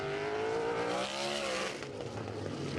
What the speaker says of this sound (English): There you hear it just break the tires loose momentarily at the flag stand.